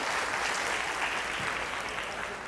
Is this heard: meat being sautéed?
no